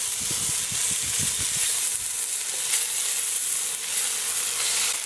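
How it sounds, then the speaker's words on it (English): Lamb pieces for a tagine hitting a smoking-hot pan, giving a loud, steady sizzle and hiss with a few soft knocks from the meat or utensil near the start, and no talking. "I'm going to seal the meat and then I'm going to take it out of the pan"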